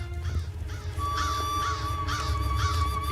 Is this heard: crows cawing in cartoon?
yes